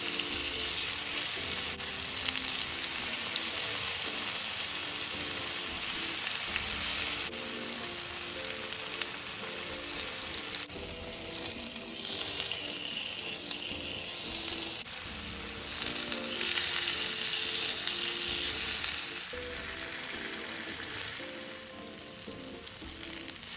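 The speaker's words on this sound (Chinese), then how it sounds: "舅舅比较喜欢将这豆腐煎一煎，感觉就比较香。" Tofu sizzles and crackles steadily in hot oil, a continuous close frying hiss with occasional soft scraping, no voices.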